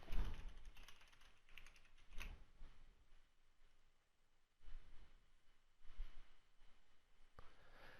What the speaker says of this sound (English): it's going to get you to log in again with this new password